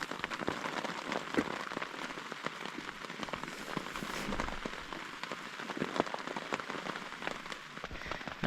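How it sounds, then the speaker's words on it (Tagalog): Heavy rain beating on a tent tarp while camping in a forest in Nueva Vizcaya, a steady dense patter of drops with scattered sharper taps, close and continuous throughout with no talking. "Malakas ang ulan kagabi. Hanggang ngayon, no?"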